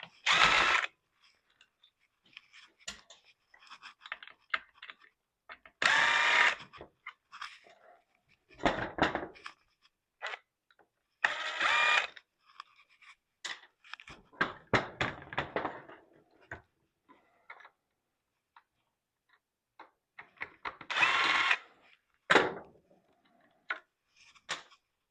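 Screws being driven back into a Stihl 031AV chainsaw during an electronic module upgrade, close ratcheting clicks in separate bursts of several seconds, with long quiet gaps between turns.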